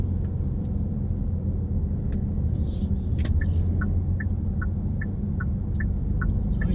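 Road traffic in Manila heard from inside a moving vehicle: a steady, loud low engine and road rumble throughout, with a brief hiss around the three-second mark and a regular series of faint high beeps or chirps.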